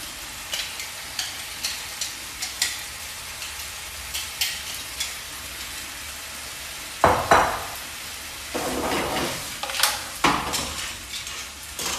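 Lobster and other seafood hit a hot pan for a pasta dish, erupting into a loud, close sizzle that rises and falls as the food is stirred, with scattered light clinks of utensils against the pan and no talking.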